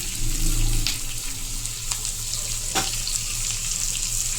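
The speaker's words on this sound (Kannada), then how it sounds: "ನೋಡಿ, ನೀಟಾಗಿ ಫ್ರೈ ಮಾಡ್ಕೋಬೇಕು." Onions fry in a pan for mango and onion rice, a steady close sizzle with a couple of light stirring scrapes and no talk.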